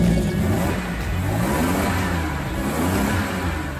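A Toyota 2000GT sports car engine revving, a loud, close, continuous mid-pitched roar that holds steady with slight swells and no voices.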